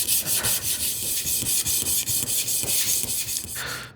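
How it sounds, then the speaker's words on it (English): Vintage plane blade rubbed over 120 grit sandpaper in quick, even back-and-forth strokes, a close scratchy rasp repeating steadily with no talk. "This is 120 grit, or it's 120 grit sandpaper if I recollect."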